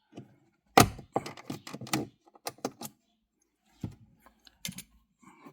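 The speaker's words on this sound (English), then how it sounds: "first thing we have to do is take out this plastic cover." A plastic trim cover being pried out of a 2016 BMW X1 F48 dashboard, a close sequence of sharp clicks and snaps in short clusters separated by quiet gaps.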